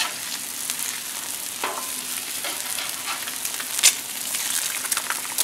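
An egg fries on a Blackstone griddle during a breakfast cook, a steady hissing sizzle with a few faint scrapes and one brief sharp clack.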